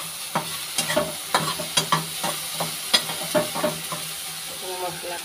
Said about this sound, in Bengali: এখানে সয়াবিনটা ভেজে নিচ্ছি